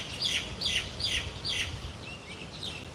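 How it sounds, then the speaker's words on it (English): Birds chirp outdoors in quick high bursts that repeat roughly every half second, bright and fairly close, then fade to softer twitters; no one speaks. "And the birds are chirping."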